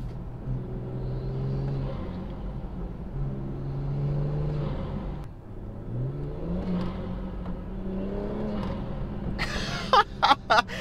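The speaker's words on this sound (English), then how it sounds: "I can definitely hear the turbo spool a lot louder" A BMW 340i's B58 engine with an aftermarket CTS turbo intake rumbles and rises in pitch as it accelerates, with a whooshing turbo spool and intake noise, ending in a few sharp bursts.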